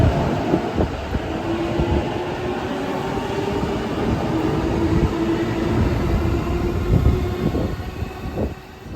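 Riding aboard an E233 series Chuo Line train toward Tokyo: a loud, steady interior rumble with rhythmic wheel clatter and a faint whining tone throughout, and no voices.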